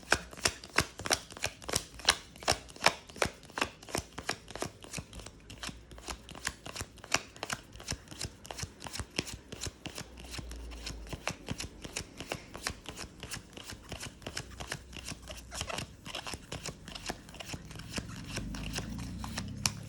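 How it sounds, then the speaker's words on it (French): Deck of 55 oracle cards shuffled by hand, steady rapid riffling and slapping in repeated bursts, close and clear with no talking. "Donc je vais mélanger le jeu"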